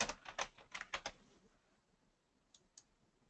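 A quick burst of clicky computer keyboard keystrokes, typing a word into a web page, close but soft. Two isolated taps follow after a quiet pause, with no voices.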